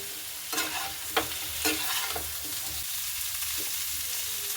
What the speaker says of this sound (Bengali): এবার আমি ভালো মতো করে নাড়াচাড়া করে নেব